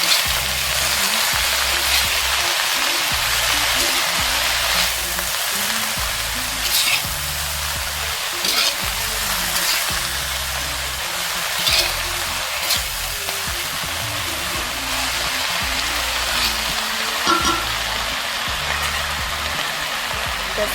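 Vegetables with turmeric for a village-style chorchori fry and get stirred in a pan, producing a dense, continuous hiss with faint rhythmic low scraping beneath, steady and close throughout.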